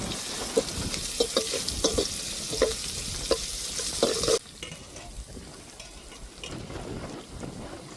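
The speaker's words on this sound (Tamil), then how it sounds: "பூண்டு சேர்த்துக்கிடுவோம்." Garlic sizzles in a hot frying pan as a utensil stirs it in repeated scraping strokes, busy crackling at first, then settling to a softer, quieter sizzle.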